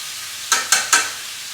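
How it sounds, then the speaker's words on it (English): Three quick bursts of loud sizzling in fast succession as ahi tuna sears in a very hot pan, each fading briefly before the next. "that's the sound you want to hear. That tuna getting really seared."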